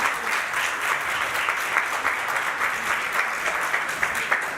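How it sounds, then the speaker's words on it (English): An audience gives a steady round of applause at a children's performance at Bhaktivedanta Manor, dense clapping holding at an even level throughout with no voices on top. "one more round of applause"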